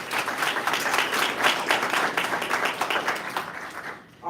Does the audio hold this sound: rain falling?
no